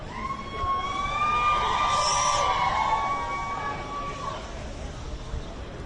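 A crowd of women cheering outdoors on a city sidewalk outside a courthouse, sustained whoops and shouts swelling near the middle and easing off, moderately distant.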